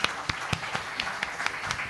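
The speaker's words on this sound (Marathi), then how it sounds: "जोरदार टाळ्या झाल्या पाहिजेत एकदा" Scattered hand claps from a small audience at a ghazal performance, uneven and fairly faint, with a few louder individual claps standing out.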